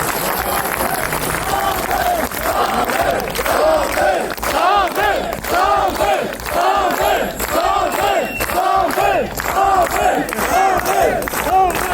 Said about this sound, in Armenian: Հավաքված տասնյակ քաղաքացիները ի պատասխան սկսել են բարձր ծափահարել եւ վանկարկել ազգային բարերար Սամվել Կարապետյանի անունը